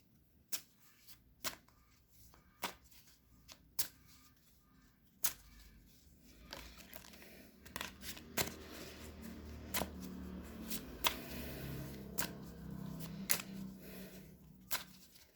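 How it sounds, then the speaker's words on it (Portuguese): Playing cards are shuffled and drawn for a football match prediction, giving a run of crisp snapping riffles and flicks in an irregular rhythm, close and fairly quiet, with no voices. "Vamos tirar agora cartas para o empate."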